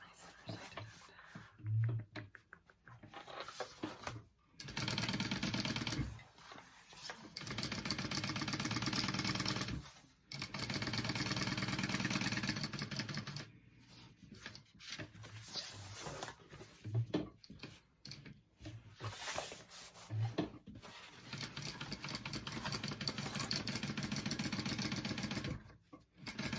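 A sewing machine top stitching a teddy backpack runs in long sustained stretches of steady mechanical whirring, broken by short pauses, close and moderately loud.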